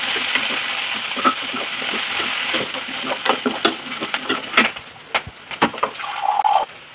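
Curry leaves, onions and green chilies frying in a pan for wheat nooka upma, a loud steady sizzle at first that breaks into crackling pops and spits as the pan is stirred.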